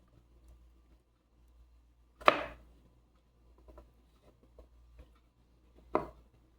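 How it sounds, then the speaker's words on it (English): A knife dices food small on a cutting board. Two distinct, fairly sharp chops sound a few seconds apart, with faint light taps between them in a quiet room. "So I'm dicing it pretty small, y'all."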